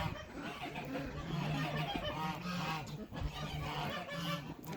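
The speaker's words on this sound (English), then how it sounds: "duck behind Silver, who has no name." A farm duck gives a run of loud, nasal honking quacks close by, repeated in a steady rhythm.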